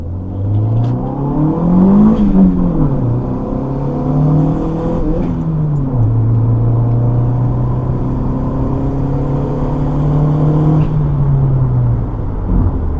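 A turbocharged Honda tuned with Hondata S300 accelerates hard through a pull, engine tone rising steadily then settling into a long sustained high-rpm drone, loud and close from inside the car, without talk.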